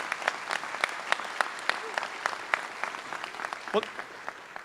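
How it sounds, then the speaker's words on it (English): At a ribbon-cutting event in Florida, an audience gives the governor a round of applause, sparse distinct claps in an uneven rhythm, fairly faint and thinning toward the end. "Can we have another round of applause for our governor?"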